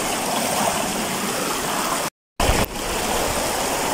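Loud, continuous rush of creek water flowing in a river, steady and close, broken only by a brief cut of silence midway.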